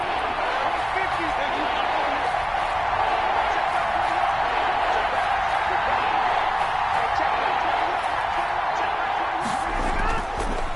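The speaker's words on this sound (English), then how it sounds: "the crowd getting into it as we come up on a big 3rd down" A football stadium crowd roars steadily and loudly ahead of a big third down in an NFL game between Indianapolis and Houston. The dense cheering noise holds level for the whole stretch, and no voices stand out.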